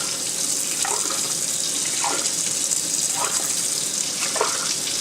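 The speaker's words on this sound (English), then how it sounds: "Of course, the hotter the tap water is, the faster it cleans the can" Hot tap water runs steadily into tomato cans to rinse out leftover sauce, a constant hissing gush with faint sloshing bursts as the cans are swirled.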